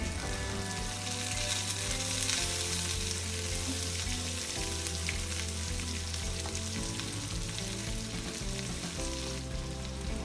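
Big onion, small shallots and a gooseberry-sized lump of tamarind sautéing in a pan for Madurai kara chutney, a steady loud sizzle with faint stirring scrapes throughout, no talk.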